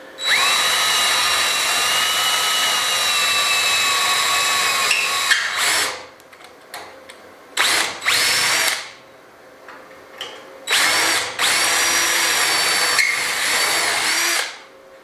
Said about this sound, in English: So I'm going to get the rivets out first, just going to drill them out